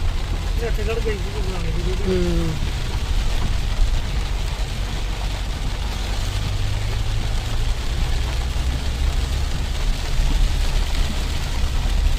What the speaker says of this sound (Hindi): काफ़ी घने बादल और भारी बरसात थी